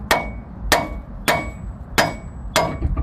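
A hammer whacks the ball joint of a 2005 Mazda 3 tie rod in five sharp metallic strikes about 0.6 seconds apart, close and loud, with a sixth lighter knock at the end.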